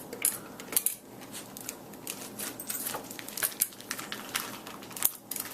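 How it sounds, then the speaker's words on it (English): A spoon scrapes and clinks against hardened homemade ice cream inside a plastic Ziploc bag, giving repeated close metallic taps and crinkly scraping at an irregular pace. "And then start scooping it out of the bag."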